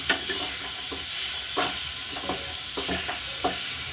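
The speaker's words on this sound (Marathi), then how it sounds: "रवा भाजत असताना पायनॅपलला असं हळूहळू हे करायचं, म्हणजे ते रव्यामध्ये मॅश होऊन जाईल" Semolina roasting with chunks of pineapple in a pan for sheera, a steady soft sizzle broken by scraping stirs that come every second or so, close by with no talking.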